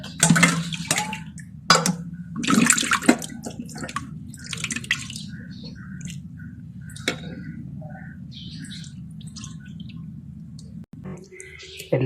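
Prawns are rinsed in water, with close splashing and sloshing early on, then scattered drips and small splashes against a quiet background.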